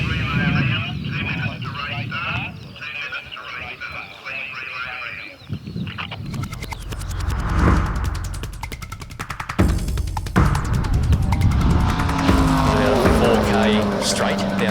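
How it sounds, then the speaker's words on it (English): Loud rally car engines roar and surge past on a gravel forest road, with several cars roaring through one after another over a rumbling, gravelly background. "there's a real surge of engine noise as we're waiting for them to come through"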